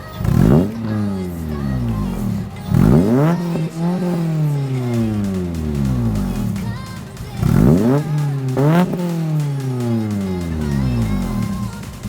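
A car with new exhaust headers revving hard several times, the exhaust note rising sharply and falling back between loud, close blips.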